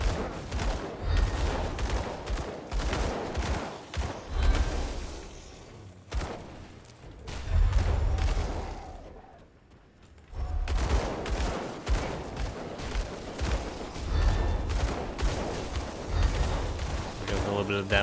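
Dual pistols firing rapidly at enemies in the action RPG Grim Dawn, a dense run of loud gunshot bursts with brief pauses, mixed with combat effects and a speaking voice over the shooting.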